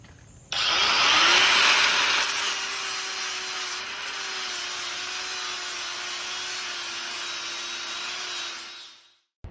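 A SeeSii 21V cordless angle grinder running on a Makita-compatible battery cuts metal and throws sparks, a loud, steady high-pitched whine with harsh grinding noise that holds for about eight seconds before winding down.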